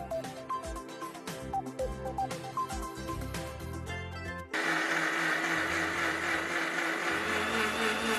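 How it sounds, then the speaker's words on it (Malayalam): A mixer grinder blends batter with milk for a Kerala dish. Music plays at first, then the motor cuts in loud and steady with a whirring roar that runs to the end. "ഇതിലേക്ക് ആവശ്യത്തിന് പാല് ചേർത്തിട്ടാണ് നമ്മളിതൊന്ന് മിക്സിയിൽ അരച്ചെടുക്കുന്നത്."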